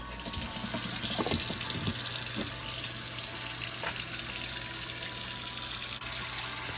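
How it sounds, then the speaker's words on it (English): Warm water runs steadily from a kitchen tap into a sink, a continuous close splashing hiss filling the basin with no talking over it. "So I fill my sink up with just this amount of warm water"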